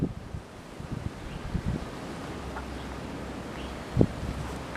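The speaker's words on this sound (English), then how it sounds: "because it's so windy outside" Wind buffets a Canon camera's microphone outdoors with a constant low rumble and breathy roar, broken by a few brief thumps, and no voices.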